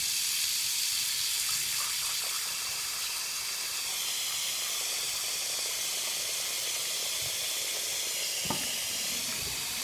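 Burning hot water hissing and sizzling steadily onto a fake Pokemon card, a continuous close, loud steam-like wash with a brief sharper burst near the end and no talking.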